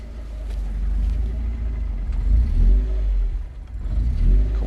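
Small car with a welded differential manoeuvring into a parallel parking bay, engine revving and whirring in low, swelling surges with short pauses, close and fairly loud with no talk.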